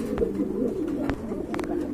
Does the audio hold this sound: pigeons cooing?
yes